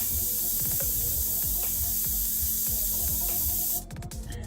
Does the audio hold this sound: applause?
no